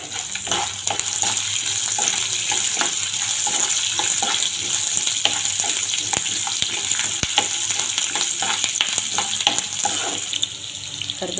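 Green chillies frying in a pan with peanuts for mango rice, a steady, close hiss and sizzle with faint clinks of stirring throughout, no talk.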